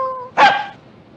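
A man imitates a dog with a can tied to its tail: one sharp, yelping vocal burst that fades quickly, after a faint tonal hum.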